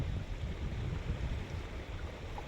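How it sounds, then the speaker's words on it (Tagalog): A strong river current rushes past in a constant broadband wash, moderately close and quiet, with low churning rumble and no voices. "Malakas pa rin yung tubig, malakas yung agos."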